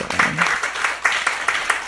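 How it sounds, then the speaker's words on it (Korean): A church congregation claps in unison, loud rhythmic bursts repeating at an even beat over a couple of seconds. "주님께 박수 올려드려요."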